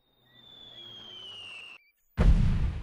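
Artillery fire mission in the Delta Force 2 video game: after a steady whistling tone, a loud, sudden explosion bursts in and rumbles on heavily to the end.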